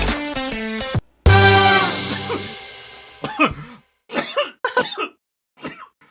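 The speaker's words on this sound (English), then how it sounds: "Kevin is coughing maniacally from his bong rip" A man coughs hard and clears his throat after a bong rip during a podcast recording, several loud harsh bursts in an uneven sequence following a brief tonal jingle at the start.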